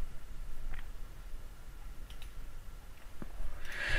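A few sharp, isolated mouse clicks made while stepping through an Ubuntu 12.04 Linux installation, sparse and close-up over a faint background hiss.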